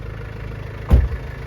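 A car creeps slowly along a rough, badly damaged rural road on a farm in Zimbabwe, its engine a low steady hum. A single dull bump or jolt sounds partway through; there is no talk.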